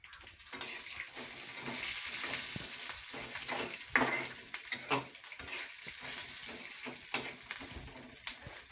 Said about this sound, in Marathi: शेंगदाणे टाकून झाले की आपण आता कडीपत्ता टाकणार आहोत